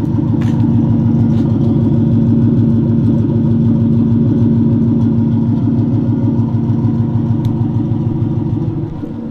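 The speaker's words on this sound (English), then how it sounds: "It's a wicked sound that this car makes." Nissan S14 drift car fitted with a Toyota 1UZ V8 and custom exhaust, idling loud and close with a steady, deep burbling pulse for several seconds, tapering slightly at the end.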